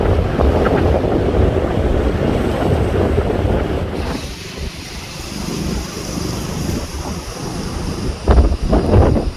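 Strong coastal wind roars across the microphone with heavy surf and waves breaking along a fishing shore as Cyclone Nivar approaches, a steady loud rush that eases midway and then gusts back up near the end.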